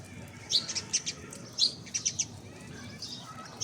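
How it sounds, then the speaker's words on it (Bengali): Sparrows chirping in quick, bright bursts while feeding at a pigeon feeding spot, moderately close, with a soft, steady background hush and no talking. "আর কিছু কিছু চড়ুই পাখি আছে আমার এখানে খাবার খেতে"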